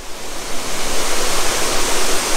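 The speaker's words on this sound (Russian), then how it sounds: "Это водопад Эль-Лимон, в смысле нижняя его часть." Close, loud, dense rushing roar of the lower part of El Limón waterfall in the Dominican Republic, a continuous wash of falling water with no voices.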